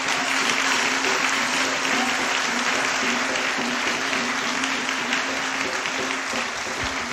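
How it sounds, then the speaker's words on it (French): Loud, dense applause and acclaim from a church congregation in Côte d'Ivoire giving thanks during a sermon; a constant roar of clapping and crowd noise holds steady with no individual speech standing out. "On va lui dire merci encore par acclamation."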